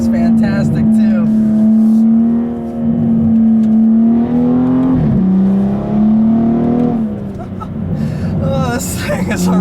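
Tuned 2015 BMW M235i xDrive with an aftermarket exhaust, droning steadily and loud through a drive with tight corners, pitch rising and dipping as the throttle changes, a voice talking over it.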